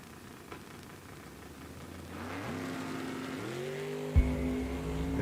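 Drag race cars at Eddyville Raceway Park, a 576 wagon and a 704 Mustang, engines rising together in stepped revs, then a sharp loud launch burst near the end, sustained roar continuing afterward.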